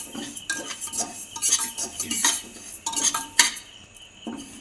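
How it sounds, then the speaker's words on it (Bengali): Dal lentils being stirred lightly in a pressure cooker pot with a metal spoon, giving repeated close scraping and clinking strokes in an irregular rhythm. "প্রথমে ডালটা দিলাম, দিয়ে হালকা নেড়ে চেড়ে"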